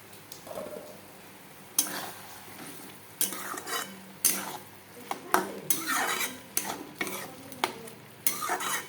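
Spicy red goat meat curry is stirred in a kadai, the spoon scraping and clanking against the metal in repeated sharp strokes over a soft background sizzle, close up with no talking.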